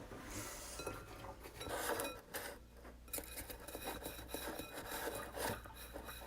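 Dishes being rinsed in a kitchen sink, with steady close rubbing and scraping, soft clinks of crockery and cutlery, and a faint running-water hiss throughout, no voices.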